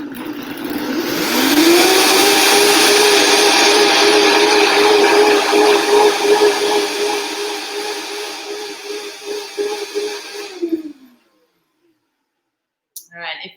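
A Vitamix blender revs up and runs at a steady high-pitched whine for about nine seconds, loud and close, then winds down and stops, leaving silence before a brief final clatter.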